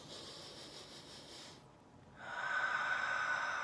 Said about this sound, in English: here's the in breath